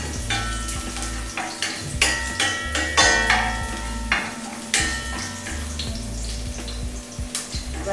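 Onion and tomato sauté in a pan for a zucchini kofta gravy, a steady sizzle broken by repeated scraping and stirring strokes, close and fairly quiet, with no voices.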